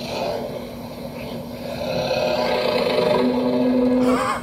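An animal in Alaskan waters, recorded as it surfaces and breathes, gives a sustained, deep, rasping exhalation and intake that swells louder over a few seconds, resembling a snore or low roar.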